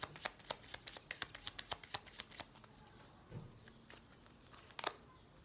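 Tarot cards are shuffled by hand close by, a run of soft, rapid flicking riffles followed by a few scattered taps, quiet and with no talking.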